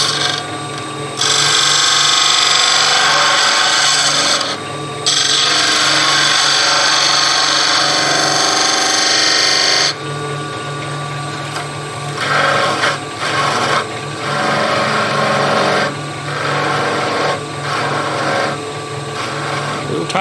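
A skew chisel makes a facing cut on spinning wood on a lathe, producing a loud continuous scraping hiss in long sustained passes that stop abruptly, followed by shorter, choppier cuts over the motor's hum.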